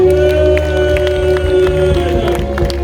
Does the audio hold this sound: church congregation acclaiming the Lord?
yes